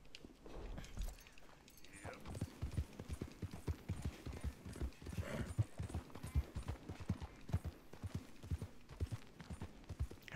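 A horse ridden in the video game Red Dead Redemption 2 clip-clops steadily at a walking pace, its hoofbeats rhythmic and moderately loud with faint ambient sound between steps.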